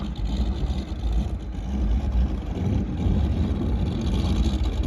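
Steady low rumble of a $100,000 boat's engine on the water, constant and fairly close, with no talking.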